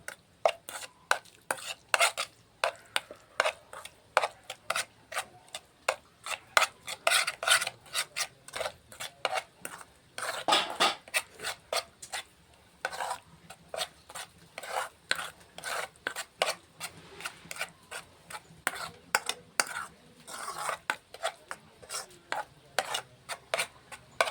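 Small prawns are mixed by hand with salt and turmeric for a prawn malai curry, making repeated rhythmic scraping and rubbing strokes, close and brisk, for the whole stretch.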